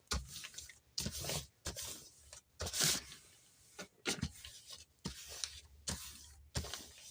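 A sheet of journaling paper is crinkled and wrinkled by hand in repeated bursts of soft rustling and crackling, close and fairly quiet, with short pauses between handfuls.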